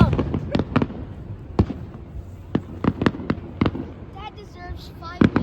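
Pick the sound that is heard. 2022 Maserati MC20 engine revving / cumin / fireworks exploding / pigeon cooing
fireworks exploding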